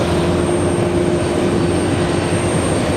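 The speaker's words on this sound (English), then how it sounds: "787 on the move, heading to 4 right for departure." A Boeing 787 airliner taxis toward the runway for departure at JFK, its engines giving a loud, continuous jet whine and roar with a steady high tone.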